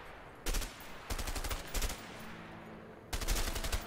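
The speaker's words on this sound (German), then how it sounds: "Soll ich mal ein, zwei abschießen, damit du denkst, du hast sie getroffen?" Bursts of automatic gunfire from the video game A Way Out, several rapid volleys of shots separated by short pauses, fairly loud and close with no talking over them.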